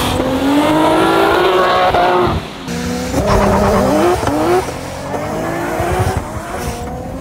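Cars with EcuTek traction control launch hard off the line, engines revving loudly with rising, stepping pitch as they pull away and shift, a faint tire squeal mixed in, close and with no talking.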